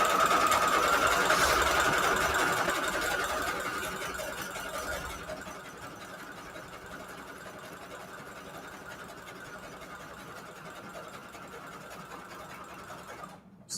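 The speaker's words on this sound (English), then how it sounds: "let's zigzag stitch around the edge, and then we are done for tonight" A sewing machine runs a continuous zigzag stitch around the edge of a junk journal page. A steady mechanical whirring fades gradually in the first few seconds, then stays constant at a lower level until it stops abruptly.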